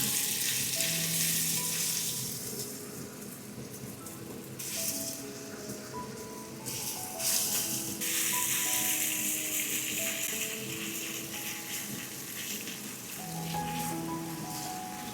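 Marinated beef stir-fries in a hot pan, making a loud, steady, rain-like sizzle that lasts throughout, with occasional tossing and scraping bursts.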